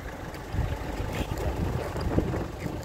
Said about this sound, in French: Ouah, avec les rafales qui arrivent.